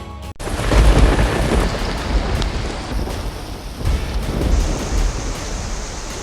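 Heavy rain pours in Delhi as deep thunder rolls through, a loud, dense wash of rainfall with rumbling swells that rise and ease over several seconds, with no voices.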